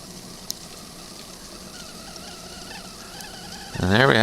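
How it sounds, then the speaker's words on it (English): Quiet steamy hiss builds until a kettle on a paint can rocket stove starts a shrill whistle near the end, loud and wavering in pitch. "I think we're about to get a whistle here."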